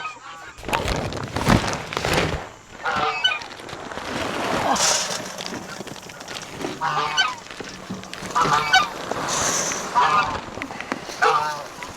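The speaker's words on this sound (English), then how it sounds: "Stupid geese." A flock of geese honks noisily nearby on a homestead in irregular, overlapping calls, with some talking mixed in.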